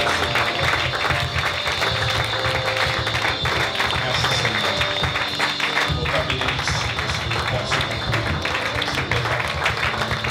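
A church congregation applauding in acclamation, dense continuous clapping that fills the space steadily, with voices mixed in beneath.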